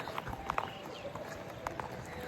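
A bull's hooves clop in an irregular trotting rhythm on hard ground, moderately close, over a steady outdoor background with voices nearby.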